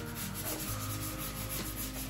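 Hand scuff sanding of painted furniture, a close, steady rasping rub with repeated back-and-forth strokes and no voices.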